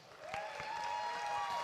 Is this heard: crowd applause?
yes